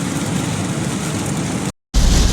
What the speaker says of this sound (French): la pluie est là